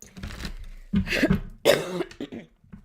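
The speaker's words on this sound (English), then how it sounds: "Still coughing a little bit, but pretty much gone now." A few rough, throaty coughs from a lingering, nearly gone cough, in quick succession, close and fairly loud, with no speech.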